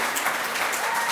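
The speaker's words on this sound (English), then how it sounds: "Yes, we should clap." Steady applause from an audience at a launch event for a coding platform, a brief dense burst of clapping without pause.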